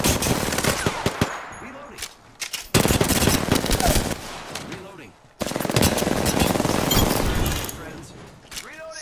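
Rapid automatic gunfire from Apex Legends rattles loud and close in long dense bursts with brief pauses between them, game voice lines heard over it.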